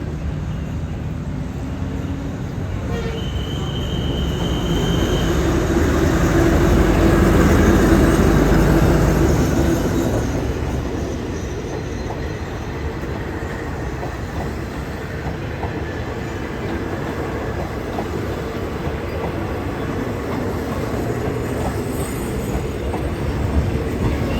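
A passenger train at Bang Sue Junction station in Bangkok, a continuous rumble of rolling railcars and wheels that swells to a peak and then eases into a steady drone, with a brief high wheel squeal early on and no talk.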